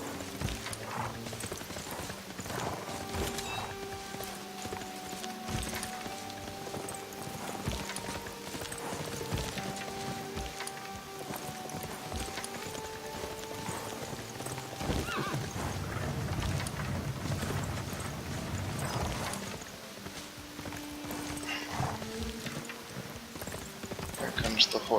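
Cavalry horses in a Civilization VI strategy game, with clip-clopping hooves and whinnying neighs running steadily over layered game music and ambient battle sounds throughout.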